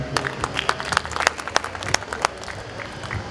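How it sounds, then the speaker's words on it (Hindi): A family gathering claps for a child who has just recited a poem. The applause is crisp and scattered, with many sharp individual hand claps over a few seconds that gradually thin out. "जोरदार तालियां इस बच्चे के लिए"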